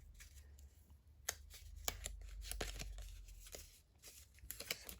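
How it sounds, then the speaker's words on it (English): Scissors snip off an excess tab of paper tape during a scrap-paper craft project, giving a few close, sharp cuts and crinkles of paper scattered across a quiet tabletop. "Too much tab, I'm just going to cut that off."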